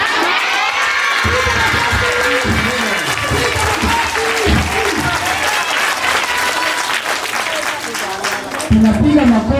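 A church congregation claps loudly and steadily after a children's poem, broad applause with some cheering voices throughout and a brief swell near the end.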